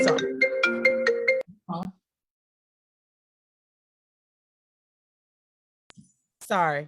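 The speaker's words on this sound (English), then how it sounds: "My phone went off." A mobile phone ringtone plays a short melodic pattern for about a second and a half during an indoor conversation, then cuts off; a brief apology is spoken and quiet follows.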